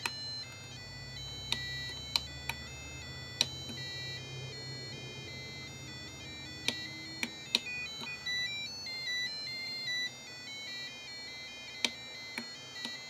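Electronic beeps and short melodic tones from the Snake game playing on a Sain Smart DIY game console kit, version 2, with sharp clicks from button presses interrupting the tune at an irregular pace.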